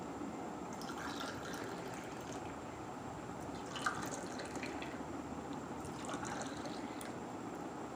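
Mishti doi mixture pouring into clay pots, a continuous soft trickle and dribble of thick liquid over a steady background hiss, with faint clinks and no speech.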